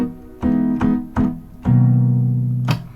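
A Vermona Perfourmer MkII analog synthesizer, played from an Arturia KeyStep, sounds a few plucky, bright notes in succession, ending on a sustained tone, alone and clear.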